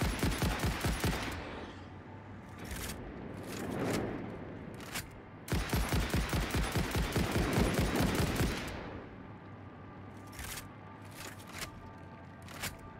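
Rapid automatic gunfire from shooting in the factory-building video game Satisfactory comes in long sustained bursts of dense shots, loud and close, broken by short pauses and a few isolated single shots.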